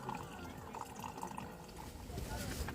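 A battery-powered portable water dispenser pump fitted on a water bottle runs at a lakeside camp near a dam, giving a faint trickle of flowing water with a light mechanical hum while a voice talks over it.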